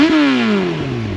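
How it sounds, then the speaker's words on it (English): A 998cc inline four-cylinder motorcycle engine with five valves per cylinder revs hard up close, its loud rising howl peaking early and then falling away smoothly over about a second, with no talk. "This glorious 998cc inline 4-cylinder."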